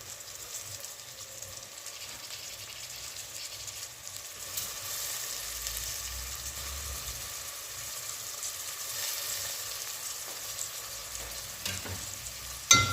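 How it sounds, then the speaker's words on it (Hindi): Chopped tomatoes, about three, go into a pan of well-browned fried onions for an aloo baingan gravy and are stirred in, giving a steady soft sizzle with faint scraping, fairly even and close, with no talking. "तो अब हम इसमें डाल देंगे टमाटर"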